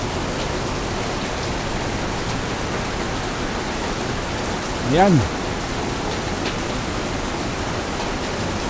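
Heavy rain pours steadily onto a barangay hall seen from a second-floor terrace, with runoff spilling from a roof gutter, a dense, even wash of sound throughout, briefly marked by a short spoken word midway.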